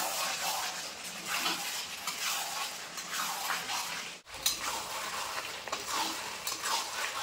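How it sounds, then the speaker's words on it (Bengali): Chicken sizzles loudly while being stir-fried in a pan, with continuous scraping and stirring and a brief pause partway through before the frying resumes. "এভাবে আমি আর একটু কষিয়ে নেব।"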